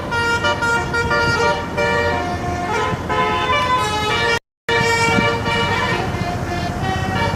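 Big, loud horns from buses and private hire coaches blare repeatedly in heavy Jakarta street traffic, sustained tonal honks layered over the constant roar of passing vehicles.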